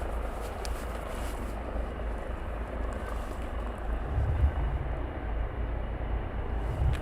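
RAF training helicopters fly around Shawbury airfield in a steady, broad rotor-and-engine drone that swells slightly toward the end, heard from a distance outdoors without speech.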